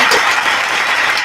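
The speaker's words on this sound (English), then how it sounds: "Can we get a clap for Dennis?" An audience at a live show breaks into loud, dense applause, a continuous wash of close clapping with no talking over it.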